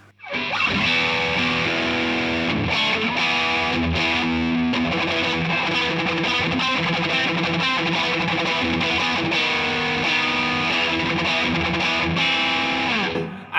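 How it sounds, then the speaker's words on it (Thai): A loud Fender electric guitar with heavy distortion plays a continuous, sustained riff, gritty and saturated, alone without voices. "ลองลองเสียงแตกดิสซอชันซะหน่อยอ่ะ"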